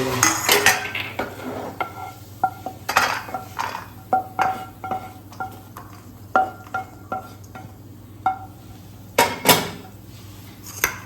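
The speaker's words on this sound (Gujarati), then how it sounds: "આ બધી વસ્તુને આપણે એક પ્લેટમાં કાઢી લઈશું" Roasted moong dal halwa ingredients are scraped from a pan onto a plate after the gas is turned off, giving a steady series of close metallic clinks and taps of spoon on cookware.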